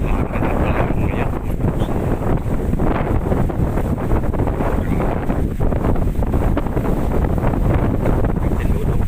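Strong wind buffets the microphone throughout a trip on a small wooden boat in the Philippines, a loud, continuous roar with rushing water underneath and no talk.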